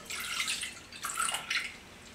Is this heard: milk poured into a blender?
yes